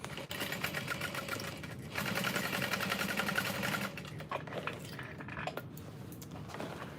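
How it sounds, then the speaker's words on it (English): A sewing machine stitches along the bottom seam of a tote bag in a steady, rapid run of needle strokes, with brief pauses and a quieter stretch near the end. "I'm gonna butterfly open that seam and sew along that bottom."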